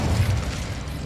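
An Incendio fire spell cast in Hogwarts Legacy, a single short low whooshing boom that bursts out and fades within a second.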